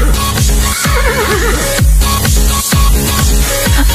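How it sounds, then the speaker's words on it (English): A horse whinny sampled into a thumping farm-animal nursery rhyme dance remix, its wavering cry riding over a loud, steady electronic beat. "Horse."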